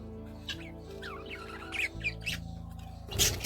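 Pet budgerigars squawk and chirp in a home cage, several harsh calls scattered through a steady low hum, with a louder burst of squawking near the end.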